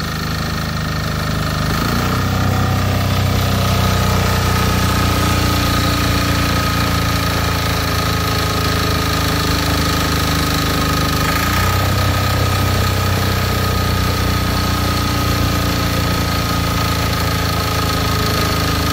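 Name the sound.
MEP 831A generator engine running and surging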